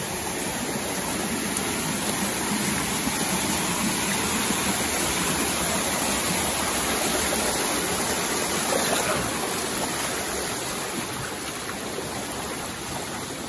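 Broadband rushing roar of the Pag-ibig Falls waterfall and stream, a steady close wash of water that never lets up, with no voices over it.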